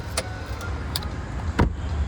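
A Hyundai Exter SX AMT locked with the key fob's lock button, with a few short sharp clicks and a brief mechanical clunk from the door locks, close by, with no speech.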